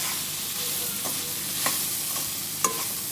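Potato and cabbage sabzi being stirred in a pan, a soft continuous sizzle broken by a few sharp scrapes and knocks of the spoon against the metal.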